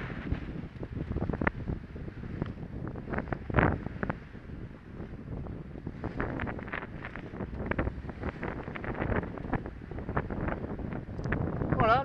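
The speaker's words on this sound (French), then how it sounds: "Alors là, il va y avoir le bruit du vent." Wind buffets the microphone on a sailboat at sea, rumbling and gusting continuously for twelve seconds with a low roar. Faint water and boat noise sits underneath.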